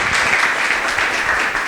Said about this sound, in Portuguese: Palmas para o Senhor, o nosso Deus,